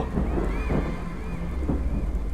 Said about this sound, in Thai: Oh, hope the rain won't get worse.